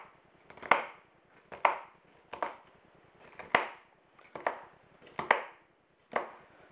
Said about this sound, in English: Just doing a rough chop here.